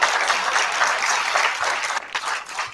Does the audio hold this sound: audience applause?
yes